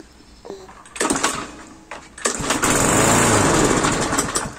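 A Scheppach petrol lawn mower sputters through a couple of brief start attempts, then catches and runs loud and steady close by, with a rough, uneven engine note.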